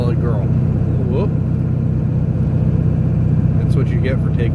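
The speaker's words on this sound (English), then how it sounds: "Tell you, for being an old truck, it's a solid girl." Steady low engine drone of an old truck hauling a heavy load of topsoil, loud and close, with brief chirping voice-like sounds over the continuous rumble.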